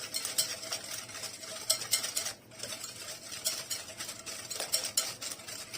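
Rapid scraping clinks of a utensil hand-whisking eggs and sugar in a bowl, in quick irregular bursts with a brief pause midway.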